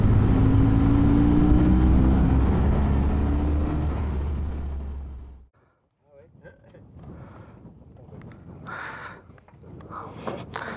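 A borrowed motorcycle on a Patagonia ride gives a loud, steady, close engine rumble with wind buffeting for several seconds, then cuts out abruptly, leaving wind noise and someone talking.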